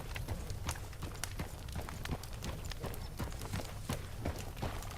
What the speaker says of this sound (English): the sound of the horse's hooves hitting the ground